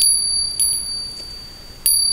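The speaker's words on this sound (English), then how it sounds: "Like this nice silver bell." A small silver bell rings with a bright, high metallic tone, struck once at the start and again near the end, each strike sustaining a clear ringing shimmer in a quiet room.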